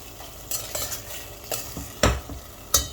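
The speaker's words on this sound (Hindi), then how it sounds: "अब इस चौली के साथ भी हम टमाटर को भून लेंगे" Chawli (black-eyed beans) with tomatoes frying in a pan for a Sindhi sabzi, with several sharp scrapes and clinks of a spoon stirring against the pan over a faint sizzle, no talking.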